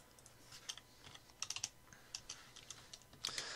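Light typing on a computer keyboard, scattered quick key clicks in small bursts, quiet and close with no speech.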